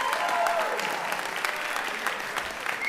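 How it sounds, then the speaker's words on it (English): A school audience at a middle school spring concert applauds after a band piece, dense steady clapping filling the hall with a few whoops and voices mixed in. "Please give them another big round of applause for that."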